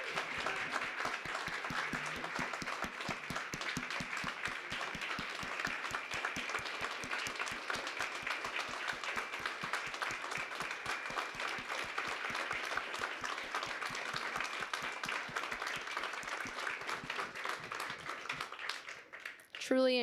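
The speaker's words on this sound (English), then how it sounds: "I would like to give another round of applause to all three of our amazing award winners here tonight" Sustained audience applause for award winners at an excellence awards evening, steady dense clapping that continues for about twenty seconds at a fairly quiet level, then fades near the end.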